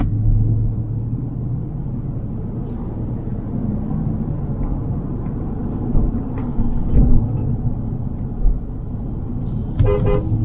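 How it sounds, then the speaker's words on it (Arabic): A car horn toots a few times near the end over a steady engine rumble and road noise inside a moving 2023 Chevrolet Tahoe LT. "هذا هورن السيارة شباب، دائما يسألوني على هورن السيارة."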